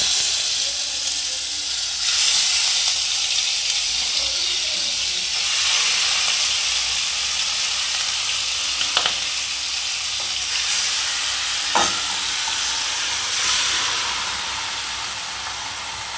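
Chicken poured into a hot pan for a healthy chicken rasilla dish, frying with a steady broadband sizzle and steamy hiss, close and fairly loud throughout with a couple of brief sharp clicks.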